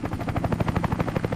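A helicopter flies overhead during an aerial wild boar hunt over a steep, arid hillside, its rotor thumping in a fast, steady pulse, loud and close with no voices.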